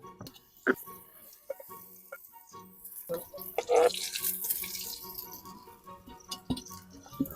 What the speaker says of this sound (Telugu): గీ ఒక 100 ml, ఆయిల్ ఒక 30 to 40 ml పోసుకుందాం అండి